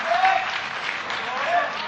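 Applause from an audience at an outdoor religious discussion gathering, a short burst of crowd clapping that swells and fades slightly, with a voice briefly audible over it.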